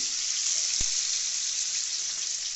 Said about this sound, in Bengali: আমরা খিচুড়ির আলুগুলো তেলে ভেজে নিচ্ছি